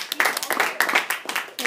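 Classroom applause after a student's persuasive speech, a short round of sparse, uneven handclaps from a small group, close and fairly quiet.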